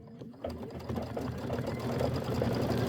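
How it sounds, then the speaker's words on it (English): A Kimberbell embroidery machine runs a quilting stitch, its needle keeping a steady, fast mechanical rhythm that stays close and loud with no talk over it. "go ahead and just hit start, and it's going to do the quilting stitch."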